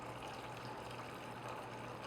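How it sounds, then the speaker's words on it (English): Hot water pours steadily into a baking pan to fill it about halfway, a continuous close rushing splash with no break and no talking. "what I'm going to do is fill my pan about halfway with hot water"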